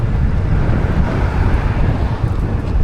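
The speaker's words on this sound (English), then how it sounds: "That wind was ripping in my face." Steady, loud wind buffeting the microphone while riding an Aventon Aventure 2 e-bike, a dense low roar that fills the whole stretch with no pauses.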